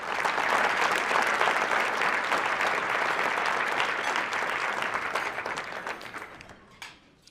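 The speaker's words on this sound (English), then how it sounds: "Can we give them a round of applause?" An audience at an award presentation claps loudly and steadily for several seconds, and the applause then thins out and fades to a few last claps.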